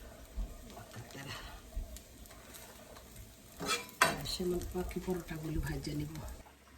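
Paratha-dough pitha frying in a pan, a soft sizzle with scraping spatula strokes and occasional metal clinks, fairly faint and close.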